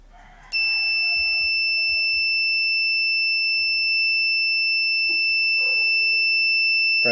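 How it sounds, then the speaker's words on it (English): A steady, high-pitched electronic buzz from a two-transistor buzzer circuit with a latch switch starts abruptly and holds continuously at an even level, with faint handling noises underneath. "a latch switch for the transistor buzzer circuit"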